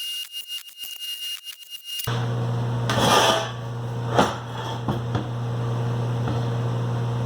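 Tack welds on lower control arm mounts for a custom long-arm front suspension on a Jeep XJ: after a quiet start, a steady electrical buzz sets in with a couple of short, loud crackling bursts close by.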